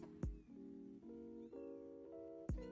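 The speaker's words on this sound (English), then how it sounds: "It is turned into noisy cat central around here" Several cats meowing close by in a kitchen, a run of overlapping, drawn-out meows and mews following one after another, fairly loud and clear.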